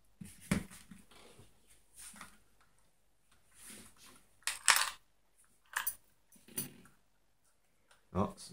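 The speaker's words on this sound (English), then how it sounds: "Oh, some screws in there." Loose screws rattle and clink inside a Motorola MC9090 mobile computer during a teardown, heard as scattered short metallic clatters and taps, close and fairly quiet, separated by brief pauses.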